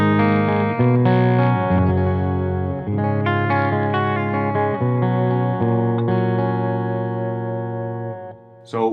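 An electric guitar runs through an Origin RD Compact Hot Rod preamp pedal into the effects loop return of a Peavey 5150 black letter power amp, playing distorted sustained chords and riffs close and loud before ringing out and fading.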